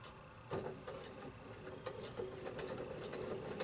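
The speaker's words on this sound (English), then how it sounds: "So if you want to operate the foot pedal, I will slowly stitch this out." A foot-pedal sewing machine slowly stitches a pinwheel quilt block. Its quiet motor whir starts up and runs in short rhythmic bursts, with faint ticking clicks and no talk.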